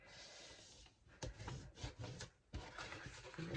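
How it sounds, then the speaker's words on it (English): Score lines on a paper card for a gift card envelope are burnished by hand in short, quiet rubbing strokes, several soft scraping passes close up. "let's burnish, our score lines."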